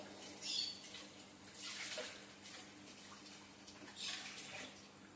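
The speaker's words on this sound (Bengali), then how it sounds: "মাংসে আমরা পানি দিয়ে দিলাম।" Water is poured into a pot of mutton and chana dal, giving a soft splashing pour in two or three short bursts over a faint low hum, with no speech.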